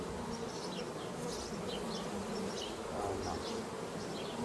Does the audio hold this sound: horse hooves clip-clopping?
no